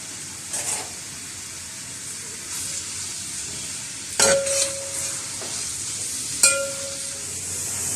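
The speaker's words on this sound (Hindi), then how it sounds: "अब इसमें जैसे ही ऑयल गर्म होता है तो ये सारी प्याज इसमें डाल देंगे और इसको लाइट गोल्डन होने तक फ्राई करेंगे।" Onions frying in hot oil for chicken biryani, a steady soft sizzle with a few louder stirring clatters of a utensil against the pan, close up and without talk.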